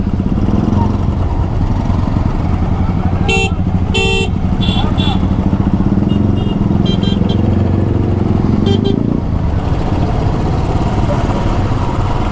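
Motorcycles and cars stuck in a road jam between Siliguri and Guwahati drone loudly up close, while several short horn blasts and toots cut through the steady engine rumble.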